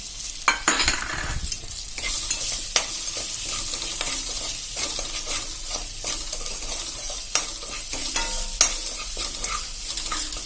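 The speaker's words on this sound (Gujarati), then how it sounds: "અને એમાં આપણે આ મસાલો પણ આપણો સરસ સંતળાઈ ગયો છે" Spices, chopped chilli and coriander stems fry in hot oil in a pan for a stuffed-chilli Punjabi curry, giving a steady close sizzle punctuated by spatula scrapes and taps, with no talking.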